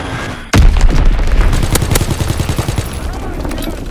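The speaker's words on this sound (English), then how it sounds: "Enemy bomb incoming." In the video game Call of Duty: WWII, a bomb blasts loud and close with a sudden boom, followed by a burst of rapid gunfire and rumbling battle noise that slowly fades.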